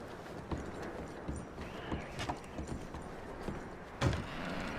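Horses clip-clop in the Ambarino Mountains in Red Dead Redemption 2, with faint, scattered hoof knocks at an uneven pace over a quiet outdoor background, one slightly louder thump near the end.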